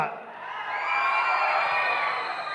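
Fan event crowd cheering loudly and continuously, whoops and shouts with whistles and clapping mixed into a dense roar, swelling in the middle and holding to the end.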